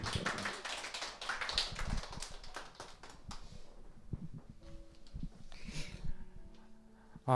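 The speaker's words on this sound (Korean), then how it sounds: "박수로 맞이하겠습니다" Church congregation clapping to welcome a speaker at a Sunday service, a fairly quiet scattered patter of claps that thins out over several seconds, with a few brief tones near the end.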